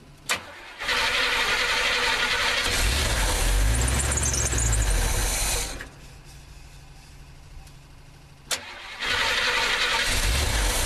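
The engine of an old 1986 Chevy truck cranks and catches, then runs loud for several seconds before dying off. After a short pause it cranks and fires up again.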